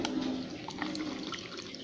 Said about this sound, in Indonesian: Lalu saya tambahkan air